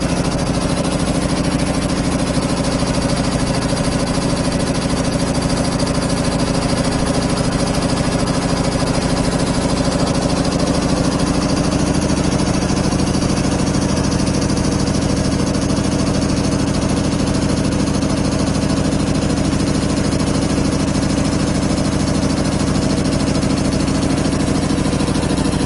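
A 25-horsepower single-phase air compressor cuts in and runs under load, a loud continuous rumbling drone with strong low hum that holds steady for the whole stretch.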